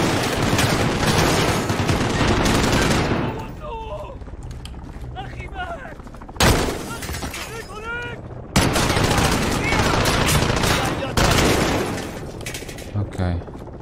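Sawed-off shotgun blasts in the Modern Warfare video game, several loud booming shots in bursts separated by quieter stretches of game sound and talk.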